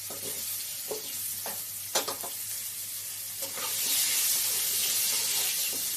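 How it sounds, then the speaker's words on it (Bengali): Potatoes with green chillies being stirred and fried in a pan: sizzling oil, several scraping spatula strokes, then a louder, hissier sizzle building toward the end. "আলুটাকে দিয়ে ভালো করে নেড়ে চেড়ে নেব।"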